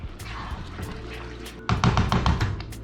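Asparagus risotto cooking as cream is poured in, heard as a soft liquid pour over a low simmer, then a louder burst of bubbling, spattering sizzle partway through.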